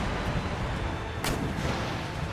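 Artillery fire in a Napoleonic-era Empire: Total War battle, a dense continuous rumble of distant guns with one sharper crack standing out midway.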